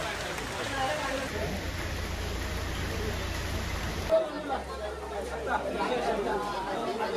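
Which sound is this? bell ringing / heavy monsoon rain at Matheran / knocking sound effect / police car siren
heavy monsoon rain at Matheran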